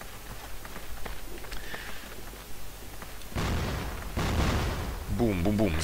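HE grenades explode in a CrossFire match on the Mexico map, with scattered gunfire and clicks giving way to a few loud, close bursts in the second half, and a voice is heard beneath them.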